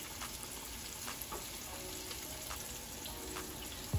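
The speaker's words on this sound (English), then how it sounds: "Straight to the fryer." Chicken pieces deep frying in hot oil in a fryer, a steady soft bubbling sizzle with faint crackles throughout, no voices.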